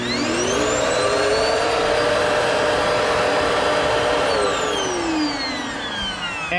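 A Eureka vacuum cleaner starting up with a loud jet-like whine that rises in pitch and holds a steady roar, then drops slightly near the end, close and alone with no voices.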